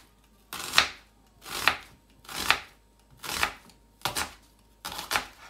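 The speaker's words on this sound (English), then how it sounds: "we'll start with chopping that nice and small." Six sharp knife chops through a large onion on a board at a steady, unhurried pace, each a crisp thud, close and clear with quiet pauses between.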